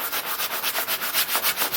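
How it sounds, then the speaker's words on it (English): Sanding block rubbed back and forth over a painted front door, a close, raspy scratching in quick even strokes, about ten passes with no speech. "So we're going to take a sanding block and just sand that down a little bit"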